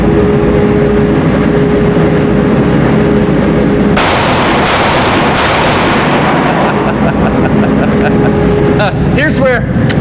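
Two sharp, loud gunshots ring out a little over a second apart during target shooting at two-inch circles, over a steady low drone, with faint chirps near the end.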